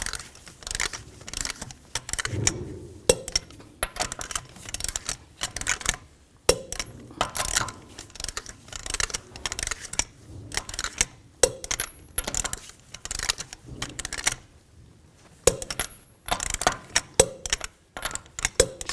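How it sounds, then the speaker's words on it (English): A torque wrench tightens the lug nuts on a 2004-08 Nissan Maxima wheel to 80 foot-pounds in a cross pattern, giving repeated sharp metallic clicks in irregular bursts separated by brief pauses. "Now I'm going to torque the lug nuts to 80 foot-pounds in a cross pattern"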